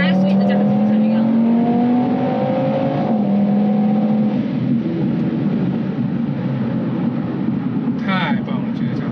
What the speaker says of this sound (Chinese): 太棒了，这个加速太无脑了，有手就能开